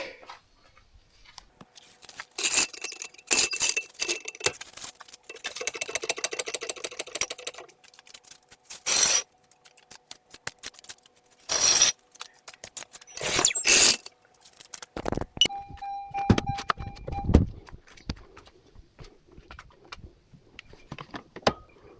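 A Honda car being let down off a jack after a home service brings bursts of sharp ratcheting clicks and metallic knocks, close and irregular, with a brief whine partway through and quiet gaps between.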